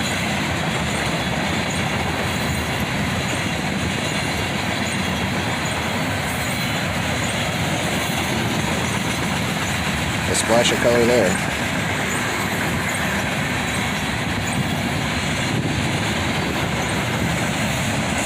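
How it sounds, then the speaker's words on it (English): Southbound CSX freight of covered hoppers led by a pair of GE AC44CW diesel locomotives, a constant loud rumbling roll with wheel noise, a brief squeal midway; someone talks over it. "Listen to those GEs scream as a pair of AC-44 CWs leads a southbound covered hopper train."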